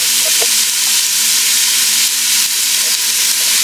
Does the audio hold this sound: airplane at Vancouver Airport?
no